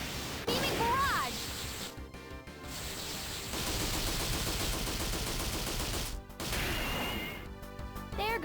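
The Beaming barrage attack in Valkyrie Profile: Covenant of the Plume, a rapid volley of sharp, gunfire-like impacts and crashes with whooshing sweeps. It pauses briefly twice and is mixed with in-game voices.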